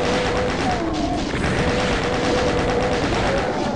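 Shotgun-wielding enemies firing in Doom, a rapid barrage of gunshot blasts and crashing impacts layered over a loud continuous game soundscape with a low hum, dense and close throughout.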